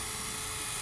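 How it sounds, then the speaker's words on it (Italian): A power drill whining steadily as it bores a hole, a continuous high buzzing tone heard close and alone for under a second. "io devo prendere questo trapano, qua. Buchi. Buco qua."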